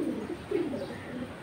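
Domestic pigeons, including female pigeons of fancy breeds, give soft low coos close by, a few throaty rolling calls in quick succession over quiet surroundings.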